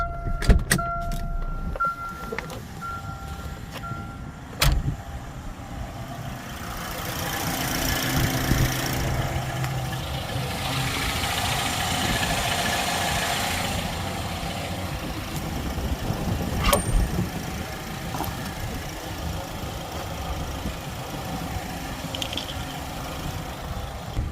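A 2009 Chevy Cobalt with about 340,000 miles starts after an oil change and settles into a steady idle, with clicks and clunks early on and a low engine hum throughout.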